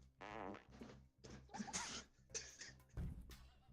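A fart noise in a comedic courtroom scene, a few short raspy bursts spread across the moment, fairly close and alone with no talk over it.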